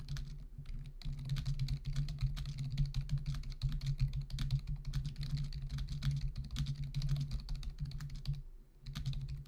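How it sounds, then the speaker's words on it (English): Rapid typing on a computer keyboard, dense irregular clicks running continuously over a steady low hum, close and clear with no talk. "you're typing"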